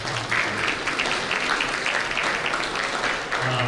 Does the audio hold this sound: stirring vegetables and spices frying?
no